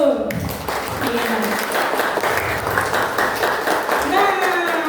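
An audience of elementary school students applauds during an orientation event, rapid dense clapping that is mixed with voices and crowd noise throughout.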